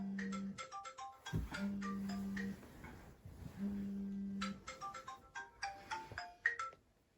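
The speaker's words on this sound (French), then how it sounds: "j'ai juste à passer un petit coup de fil" A telephone rings in repeated electronic bursts as a call is placed, two long ring tones separated by pauses, with chirpy tonal sounds around them and no speech over it.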